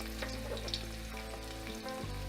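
Cumin, a pinch of salt and finely chopped garlic frying in oil, a soft continuous sizzle under a steady low hum, quiet and without voices.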